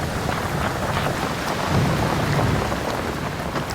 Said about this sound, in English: we saw our fair share of torrential downpours on this trip